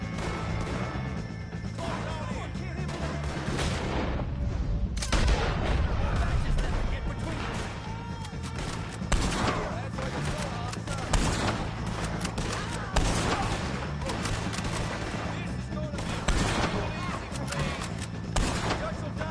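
Dense, rapid gunfire in a video-game shootout with O'Driscoll gang members, sharp cracks and smashes overlapping throughout amid a busy mix, with a voice speaking now and then.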